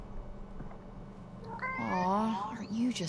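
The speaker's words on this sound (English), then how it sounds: "Alright, now to pet the kitty." A cat meows in a drawn-out, rising and falling call, close and fairly loud, over a low steady background hum.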